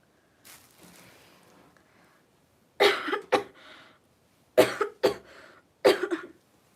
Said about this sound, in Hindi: कुछ नहीं, बस खांसी आ रही है।